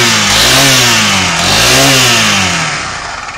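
A Honda Forza scooter engine runs close by, rising and falling in pitch through two revs before settling, with a steady mechanical rattle from the variator.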